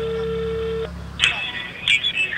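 A telephone call being placed from a Brazilian radio show studio: a steady tone, then a short run of dialing beeps, heard close and clear before the line connects.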